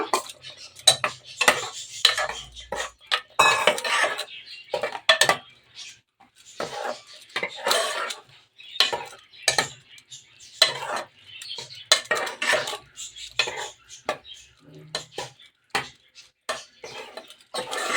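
A spoon scrapes and clinks against a pan while liver gravy is stirred, in a quick irregular series of close, sharp metallic taps and scrapes with short pauses between them.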